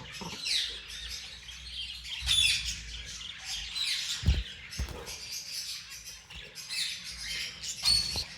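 Pet birds in a breeding cage, a blue breeder female paired with a lutino male among other cage birds, give repeated sharp chirps and squawks, near and fairly loud, with scattered cage rustles.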